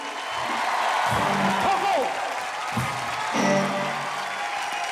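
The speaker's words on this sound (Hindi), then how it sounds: "मैं चाहूंगा उनका जोरदार तालियों से स्वागत करिए।" Studio audience applause for Navjot Singh Sidhu on a comedy show, a broad steady wash of clapping with voices and music mixed in beneath it.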